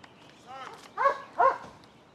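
A police K9 dog gives a few short barks and yelps out on a search track, two sharper bursts close together, with the handlers' voices around it.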